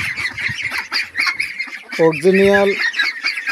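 Pekin ducklings, 22 days old, call in a short nasal honking burst amid a busy, chattering flock, with someone speaking briefly.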